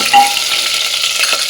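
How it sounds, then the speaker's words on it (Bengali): Onion, bay leaf, cumin and potato fry in a pressure cooker with a steady close sizzle and hiss, loud and continuous throughout, a faint stir scraping near the start, no voices. "আমি পেঁয়াজ আর তোমার তেজপাতা জিরে আর আলুটা একসাথে দিয়ে দিয়েছি"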